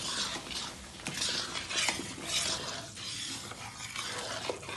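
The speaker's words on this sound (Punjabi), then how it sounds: "ਹੁਣ ਆਪਾਂ ਨਾ ਆਟੇ ਨੂੰ ਭੁੰਨ ਲਾਂਗੇ" Wheat flour roasting in plenty of ghee for khoya methi pinni, stirred continuously with a spoon scraping the pan, a soft sizzle under irregular clinks and scrapes, close but fairly quiet, with no talking.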